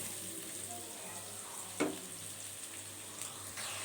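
Pre-boiled rice mixed through chicken frying in a pan: a soft, steady sizzle with one clear scrape of a spoon partway through and a couple of fainter stirring knocks.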